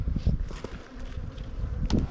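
Many honey bees crawling over a brood frame in an open hive, a close, steady low buzzing with small bumps and rustles of handling, and no voices.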